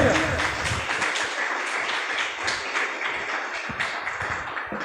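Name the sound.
congregation applauding the Lord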